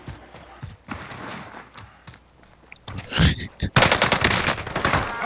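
Rapid video game gunfire strikes the player during a gas-filled firefight, bursts of automatic shots sharpening into a dense loud volley near the end, with faint footsteps beforehand.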